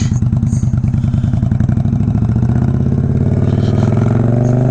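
Indian Scout bobber motorcycle ridden on the road, its V-twin engine loud and close with a steady pulsing throb that rises slightly in pitch as it accelerates, no talk.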